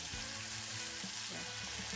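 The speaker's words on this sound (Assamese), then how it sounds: "এইফালে মাছ অলপ ভাজি থৈছোঁ আৰু এইফালে ফুলাকৈ মালপোৱা ভাজি আছোঁ" Malpua and fish frying in hot oil for a Ramadan meal, with steady close sizzling and bubbling, plus a few soft stirring knocks over the two seconds. No one speaks.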